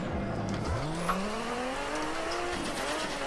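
A Nissan Skyline R32 drifts in Assetto Corsa, its engine note rising steadily as the revs climb, with tire squeal and a constant roar that stays loud and close throughout.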